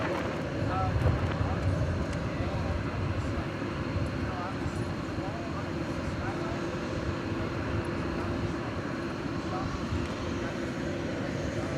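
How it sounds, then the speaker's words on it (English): An American Airlines Boeing 777 pushing back from Terminal D at DFW at night produces a continuous low jet engine rumble, moderately loud and steady, with a voice talking over it. "Another 777 flight 78 pushing back from Terminal D."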